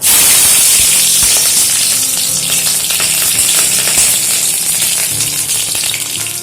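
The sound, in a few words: black cumin and green chilies frying in mustard oil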